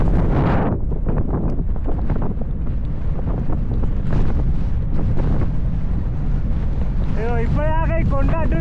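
Strong wind on an exposed mountain road in Mongolia buffets the microphone in a loud, steady roar during a bicycle trip, with faint chirping showing near the end.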